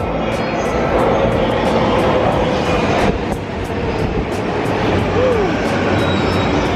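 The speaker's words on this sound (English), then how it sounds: "Here's the train." A loud, steady rumble of a train rolling into a Tokyo station, with a rhythmic ticking clatter and a brief high squeal partway through.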